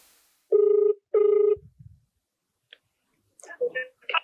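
A phone call rings through with two loud electronic ring bursts close together, followed by faint clicks and a voice answering briefly at the end.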